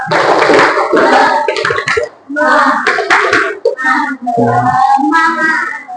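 An elementary school class does a rhythmic spirit clap, with bursts of hand claps in quick patterns mixed with children's chanting voices, loud and close, broken by short pauses.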